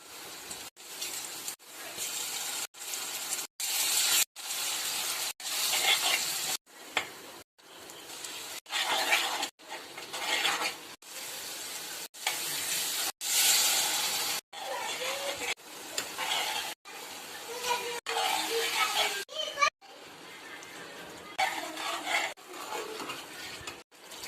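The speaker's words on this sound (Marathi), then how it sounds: "कढई ठेवले तेल टाकलं तेल छान गरम झालं कांदा टाकायचा" Onion frying in hot oil in a kadai gives a close sizzle broken by repeated stirring and clanks of a utensil against the pan, in short bursts with brief pauses, no voice over it.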